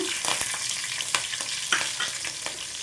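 Cumin seeds and three medium green chillies frying in hot oil for a chickpea masala curry, a loud continuous sizzle close up, punctuated by small pops and a few stirring scrapes.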